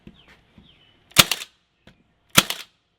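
A 16-gauge DeWalt or Milwaukee nail gun fires two sharp, loud single shots about a second apart, each a crisp pneumatic bang with a short tail, separated by near silence.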